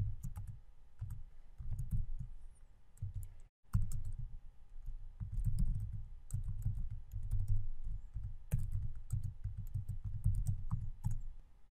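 Fast typing on a computer keyboard, close and clear, with clusters of rapid key clicks broken by short pauses and a brief silent gap early on, no one speaking.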